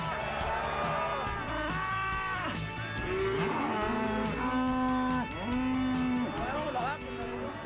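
Cattle on an Argentine estancia moo loudly and repeatedly as they are herded into a corral, several overlapping drawn-out calls close by over a constant outdoor rumble.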